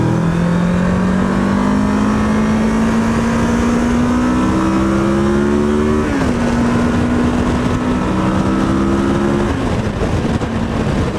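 A 2023 Kawasaki Versys 650 motorcycle cruising on a highway gives a loud, steady engine drone whose pitch climbs slowly, dips at two gear changes, and rides over constant wind rush.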